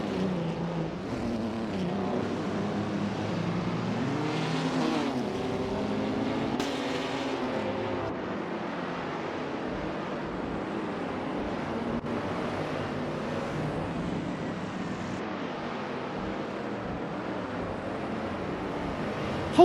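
Race cars in a video game racing simulation at the Adelaide No Chicane track, including a Pontiac GTO, give a continuous drone of several engines at a steady level, with no one speaking.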